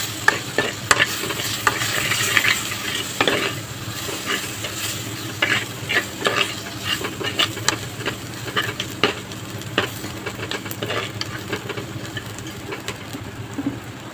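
Coriander powder and chilli powder stirred into a simmering Tamil-style fish curry, with a spoon scraping and clinking against the pot in an irregular rhythm over a steady, close sizzle and bubbling throughout.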